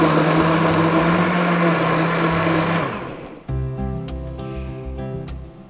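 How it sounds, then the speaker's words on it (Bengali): An electric blender whirs loudly, blending watermelon with its seeds and honey into juice. The steady motor roar runs, dips and cuts off, then a lower, pulsing motor tone picks up before fading. "এবার সাবধানে সুন্দর করে ব্লেন্ড করে নিচ্ছি।"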